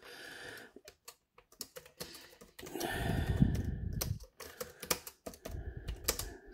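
Typing on a ZAGG Pro Keyboard 15, a run of close, crisp key taps at an uneven pace, with a denser burst of clatter midway, alone with no talking.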